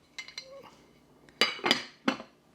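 A 1.5 quart casserole dish, covered, goes into the oven with a few light clinks and sharper clattering knocks, spaced irregularly in an otherwise quiet kitchen.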